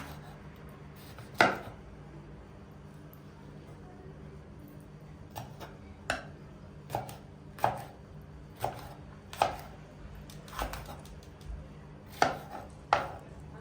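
A knife chops peppers on a cutting board while preparing chicken shish: a single hard chop, then a steady series of about ten sharp, evenly spaced cuts, close and clear over a quiet background.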